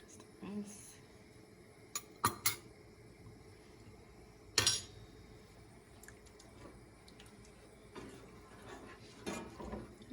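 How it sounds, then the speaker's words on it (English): A spoon clinks and scrapes against a bowl while a salmon and prawn mixture is stirred, giving a few sharp close taps over a quiet background with a voice talking. "Just stirring this all together."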